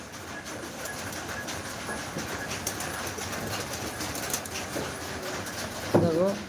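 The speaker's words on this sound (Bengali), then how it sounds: "তোমাদের অনেকটাই অসুবিধা হয় যে এই তাঁতের শব্দ" A handloom in Shantipur clatters in a steady mechanical rhythm that runs throughout. Pigeons coo briefly near the end.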